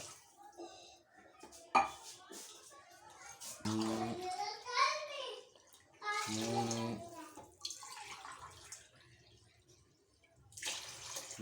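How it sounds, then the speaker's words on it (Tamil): Water is poured into a pot for chicken biryani, splashing in several bursts at close range with occasional clinks of the vessel, while someone talks in between. "இப்போ வந்து தண்ணி ஊற்றுறேன் ஆறு உலக்கு"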